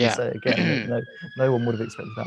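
A police siren outside wails steadily as a faint rising-and-falling tone running under close, continuous conversation between people.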